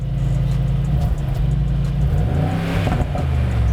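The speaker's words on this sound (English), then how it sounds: "Can you rev it once?" A sports car sits in sport mode with its exhaust open, its engine droning at a deep idle before a quick, loud rev that swells and falls back, close up and with no talking.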